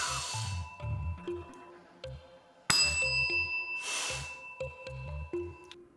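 A small bell dings a few times, clear and bright, between soft breathy puffs and rustling close by.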